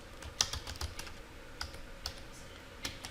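Fingers tap out a banner command on a computer keyboard, with scattered, soft, irregular key clicks over a quiet background.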